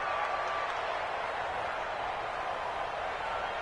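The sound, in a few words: crowd cheering in an American football video game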